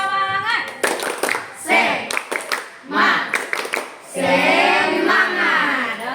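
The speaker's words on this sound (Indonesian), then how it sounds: "tepuk semangat." A group at a school counselling session does a rhythmic cheer clap, sharp bursts of claps punctuating loud chanted voices in a short, patterned sequence.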